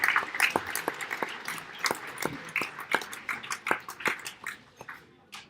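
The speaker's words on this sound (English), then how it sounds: "A round of applause for that discussion." A small audience at a book event claps sparsely after a discussion. Individual, distinct claps ring out at an uneven pace and fade out over a few seconds at moderate loudness.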